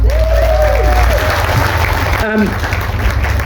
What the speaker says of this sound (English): Round of applause for Ada.